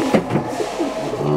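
Teddy-breed pigeons coo in a loft in Lahore, a few soft throaty coos in quick succession, close and fairly loud against light background noise.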